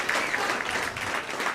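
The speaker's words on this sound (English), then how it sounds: "Clap him." A comedy club audience gives a short burst of applause, a dense wash of clapping at moderate level over about a second and a half.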